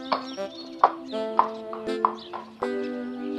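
A cartoon horse gives several short, tonal neighs and whinnies in quick succession, bright and close, with a few light hoof-like clops between the calls.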